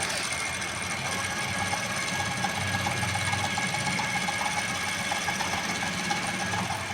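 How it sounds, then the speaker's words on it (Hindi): A sewing machine runs a steady seam along a salwar, a quiet continuous whirring and ratcheting clatter with an even rhythm, no voices. "ये दूसरी सिलाई लगाई जा रही है नीचे से।"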